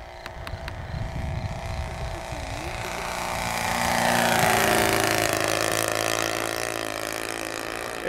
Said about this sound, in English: And now I will do a very low flyby.